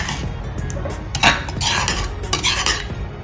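Fish and pounded turmeric with salt tossed together by hand in a metal basin, giving a steady run of soft clinks, scrapes and wet rustles close by, with a few louder knocks.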